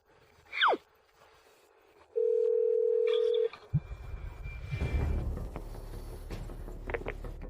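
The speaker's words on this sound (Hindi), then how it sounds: "मैं अर्जुन साहब को फोन कर दूं?" A telephone dialing tone sounds once as a steady, loud continuous beep lasting about a second, followed by a brief click and background room noise with a few faint sounds.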